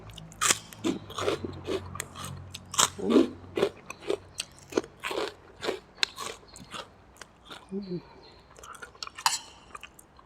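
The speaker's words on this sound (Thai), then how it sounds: "นี่แคปมันฝรั่งกรอบๆเลย ไปกินกันเลย" Crispy, golden potato crackers are bitten and crunched up close, a quick series of sharp crunches and chewing bursts, with a low background hum early on.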